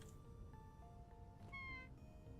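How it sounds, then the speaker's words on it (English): Cat-like damage yelp from a video game plays as brief meow-like cries over a constant background hum of game sound, with one louder squeal in the middle, faint and unaccompanied by speech. "You sound like a cat."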